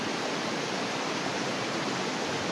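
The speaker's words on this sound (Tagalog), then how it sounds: "Sa sapa." A stream on Burias Island flowing steadily, a dense, even rush of water with no breaks, close and fairly loud, with no voices.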